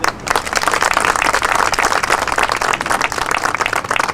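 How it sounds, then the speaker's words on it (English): Audience applause for the mayor at a celebration of the Metra Heritage Corridor line expansion: dense, steady clapping from a crowd that holds evenly for about four seconds. "we give him a round of applause"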